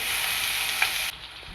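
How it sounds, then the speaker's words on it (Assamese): Panch phoron spices and paste sizzle in hot oil for egg curry, a steady close frying hiss that drops to a quieter crackle near the end. "বাকী থকা একেখিনি তেলতে পাঁচফোৰণ আৰু পেষ্টটো দি"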